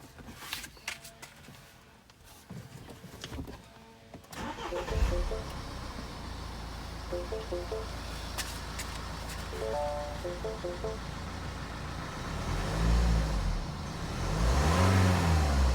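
A Mini Countryman engine cranks and starts, then revs up and down repeatedly as the throttle is worked by hand, loud and close, with mechanical clatter before the start and rising, falling engine surges.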